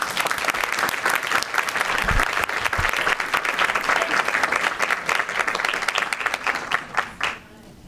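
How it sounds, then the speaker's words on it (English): Loud sustained applause from the audience at a school board meeting, dense clapping continuing throughout before tapering off at the very end. "let's give them a huge round of applause"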